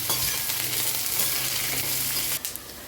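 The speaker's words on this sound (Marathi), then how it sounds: "आता हे सर्व मिश्रण आपण चांगलं भाजून घेऊया." Cumin and a ground spice mixture roast in a pan of oil for a Marathi-style bharit brinjal dish, giving a steady close sizzle with soft scraping, then a couple of sharper knocks near the end.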